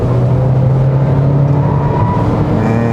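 A 2021 Kia Seltos 1.6 turbo gasoline 4WD accelerates through a corner on a winding road, heard from inside the cabin as a loud, steady engine drone with a low tonal hum that holds evenly throughout.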